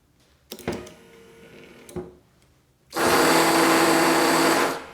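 An Austin Mini GT-Four, a turbocharged four-wheel-drive Mini, runs its windscreen washer pump: a couple of sharp clicks, then a loud steady whirring burst lasting nearly two seconds before it cuts off.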